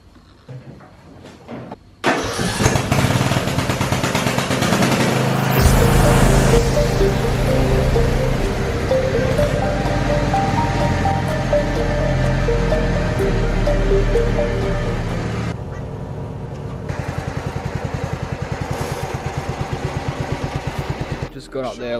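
A motorcycle engine cold start: after a quiet moment the engine fires and settles into a loud, rough, steady idle that holds for many seconds and then revs slightly, close by, with a voice speaking over part of it.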